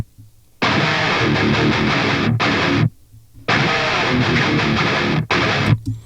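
Heavy distorted electric guitar through the STL Tonality plugin, playing dense chugging riffs. Two loud bursts are split by a brief near-silent gap, with a crunchy, bright high end and no voices.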